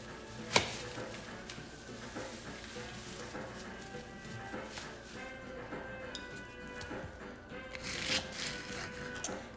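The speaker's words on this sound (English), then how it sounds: "I'm gonna slice up a little bit of regular onion" Knife slicing regular onion on a cutting board: a sharp cut near the start, then quiet irregular taps and scrapes, close but soft, with faint background noise.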